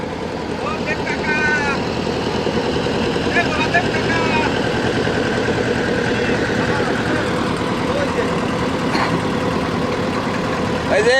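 Motor trawler engine running steadily at close range on the Pasur river, a continuous low drone with voices talking over it throughout.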